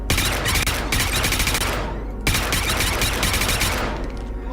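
Sustained automatic gunfire in the space sim shooter Star Citizen, dense rapid bursts filling nearly five seconds with a brief pause near the middle, loud and close, no talking over it.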